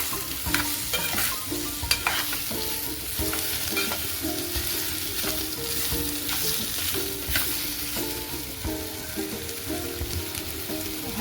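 Raw mango pieces are stirred in a cooking pan, with a spoon scraping and clinking against the metal under a steady soft sizzle, the strokes repeating irregularly throughout.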